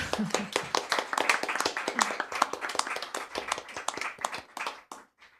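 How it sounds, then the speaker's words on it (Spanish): Hands clap rapidly and unevenly at an academic colloquium, a small group of people whose applause is close and fairly soft, then thins out and stops near the end. "Aplausos"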